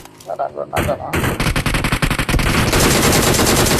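Video game gunfire pours out in rapid automatic bursts, loud and close, ending in a sustained roar of shots. A voice is heard briefly before the bursts.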